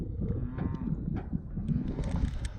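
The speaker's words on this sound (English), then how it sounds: "Can you hear them bellowing over there? They're mooing." Cattle on a farm moo and bellow repeatedly, several low calls overlapping at moderate distance over a steady outdoor background, with no talking.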